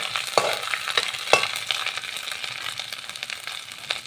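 Garlic, ginger paste and dried chillies fry in hot oil with a steady crackling sizzle, punctuated by a few sharp spits and the clink of a stirring spoon, close and moderately loud with no voices.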